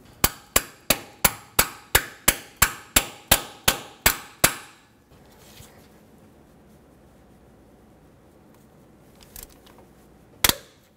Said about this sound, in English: To extract these studs, I'm going to take a extractor socket, hammer it on here.